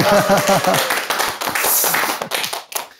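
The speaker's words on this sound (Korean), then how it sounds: "한번 박수 한번 주셔야 되지 않을까요?" Audience clapping at a senior dance sports gathering for a rumba club member, a short burst of close hand claps with a voice speaking at the start, the claps thinning out toward the end.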